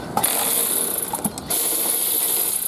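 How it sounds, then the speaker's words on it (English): A ratchet clicks in a fast, close, steady rattle while undoing a strut bolt on a 2005 Mini, with a slight pause partway through before the clicking resumes. "Undoing the strut bolt here so we can pull the shaft out."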